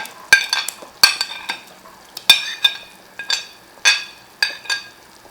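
Close, sharp sizzling bursts as pieces of mutton go into a hot pot for nihari, with about eight distinct splashes in steady rhythm, each fading quickly into a quiet background.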